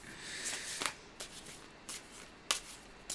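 Oracle cards being shuffled by hand, with several soft, quick riffling bursts spaced irregularly against a quiet background, fairly close and alone.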